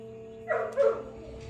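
A pet dog gives two short barks close by, one after the other, with a low steady hum running underneath.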